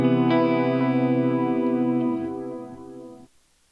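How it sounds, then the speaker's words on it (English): A Keeley Eccos delay pedal set for tape-warble modulation holds a sustained, wavering guitar chord that wobbles in pitch, then fades and cuts off near the end, played alone. "all the way to the left is a little more of like a traditional modulation, like on a tape warble"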